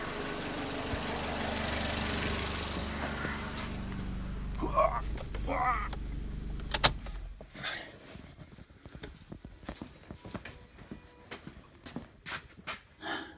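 Car engine running at a low steady idle, then shut off with the key, the rumble cutting out around the middle and leaving quiet clicks and handling noises, with faint voices in between.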